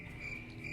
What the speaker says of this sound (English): these little crickets are in this little tiny cup